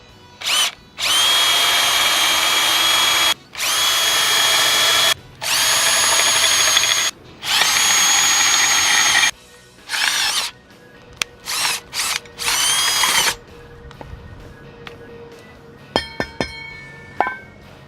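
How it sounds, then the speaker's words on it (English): A power drill whines, pilot drilling holes in foot plates in several long bursts of steady high-pitched drilling, then shorter stop-start runs, ending with light clinks of metal. "take these foot plates that I've marked out and pilot drill a hole"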